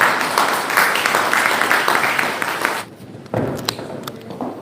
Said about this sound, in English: can we have a round of applause for Shikaya?